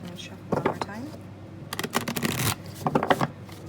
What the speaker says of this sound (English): And shuffle one more time.